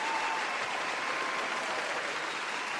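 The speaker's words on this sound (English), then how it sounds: "Thank you for the claps." Audience applause from a live-stream piano session, a soft, steady wash of clapping that continues evenly throughout at low volume.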